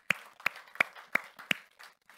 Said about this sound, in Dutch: geef applaus voor de Heer.